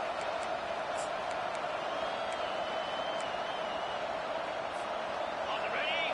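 Loud, dense roar of a football stadium crowd in overtime, a steady wall of noise with scattered whistles and whoops, under a commentator's voice.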